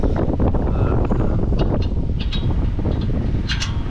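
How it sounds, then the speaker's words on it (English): Wind blows hard and steadily, a loud close rumble buffeting the microphone, with faint scattered sounds behind it and no talk. "Too much wind."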